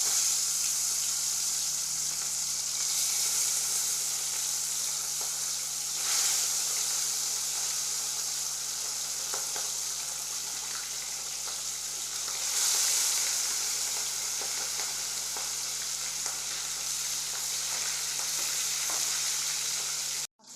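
Fish fries in hot oil in a pan, a loud, dense, unbroken sizzle that holds steady for about twenty seconds and swells slightly a couple of times before cutting off abruptly.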